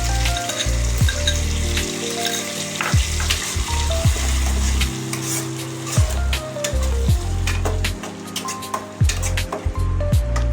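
Spice paste and two bay leaves fry in a kadai for an eggplant-and-hilsa curry, giving a loud, steady sizzle close up, with occasional scraping stirs breaking through and no talking.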